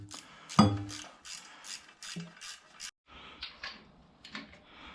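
Exhaust header bolts are tightened with a hand ratchet, producing repeated short clicking bursts of the pawl in a steady back-and-forth rhythm, close up, with a brief clunk early on and no talking.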